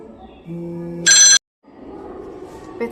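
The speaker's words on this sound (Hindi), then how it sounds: "पिताजी का फ़ोन आ गया था" A phone rings with a short, bright electronic burst of ringtone, loud and close. It is flanked by a low tonal hum and soft background noise before and after.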